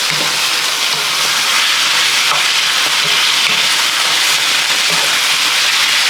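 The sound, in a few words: thinly cut beef searing in onion-flavored oil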